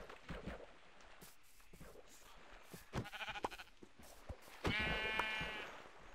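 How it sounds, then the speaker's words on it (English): Sheep in a Minecraft video game bleating, a few short faint calls with the clearest bleat near the end, over quiet game background and no talk. "Hey, is that a sheep? I think it's a sheep. It is a sheep."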